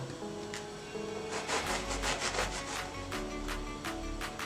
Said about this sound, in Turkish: Birleştirmek için öncelikle ekmeklerimi kesiyorum.